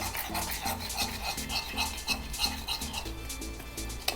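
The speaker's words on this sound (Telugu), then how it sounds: "శనగపిండిని చెంచాతో కలుపుకోండి" A spoon scrapes and stirs gram flour in a pan in a steady rhythmic pattern, close and fairly quiet, with soft repeated scraping strokes and no talking.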